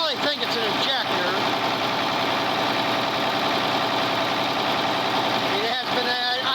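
A tractor engine idles smoothly and steadily with a low, even rumble and no misfires, holding constant and fairly close throughout.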